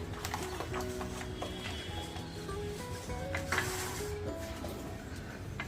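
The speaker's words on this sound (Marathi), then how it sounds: "असं छान पीठ फेटायचं आहे एकाच अँगलमध्ये फेटायचं आहे" Vada pav batter is whisked steadily in one direction in a bowl, making a soft, continuous slapping and stirring rhythm close by, with a light melodic tone running underneath.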